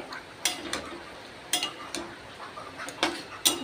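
A spoon stirring vegetables and potato with poppy seed and a little mustard oil in a pan, about seven sharp scrapes and knocks at an irregular pace over a soft sizzle, no talk.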